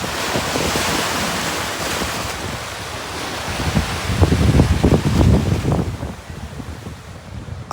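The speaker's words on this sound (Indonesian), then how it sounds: "Kencang kali di sini anginnya. Tambah kencang dia." Strong wind gusting at Lake Toba buffets the microphone with a loud, close rumble, while waves wash along the shore beneath it; no one speaks.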